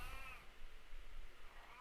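An angry blind cat meows indoors, a drawn-out, wavering complaint heard near but faint, with a second rising meow near the end.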